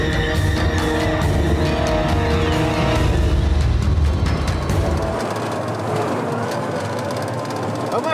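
A heavy 36-ton PMM-2M amphibious ferry vehicle with a 710-horsepower engine accelerates, a loud continuous engine roar and rumble that stays steady throughout, with no voices.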